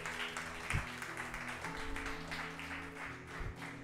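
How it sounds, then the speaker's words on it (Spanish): Church congregation clapping in praise during a Spanish-language service, a fairly quiet, continuous patter of hands with a low hum underneath and a few louder knocks. "Dé ese aplauso al Señor."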